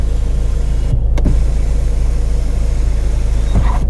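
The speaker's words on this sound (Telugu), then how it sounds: "సన్ రూఫ్ లోపల వర్కింగ్లో అవుతుంది చూసుకోవచ్చు మీరు" Sunroof of a 2021 Mahindra XUV300 W8 diesel sliding open with a steady electric motor whir inside the cabin, continuous and fairly loud for about four seconds, with faint clicks near the start and end.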